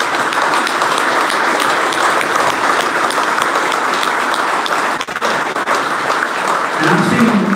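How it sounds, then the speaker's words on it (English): An audience at a captains' meeting gives a loud, sustained round of applause, dense clapping filling the room before thinning slightly near the end, where a few voices and thumps emerge. "I want a unified round of applause for all of the companies that supported these guys up here"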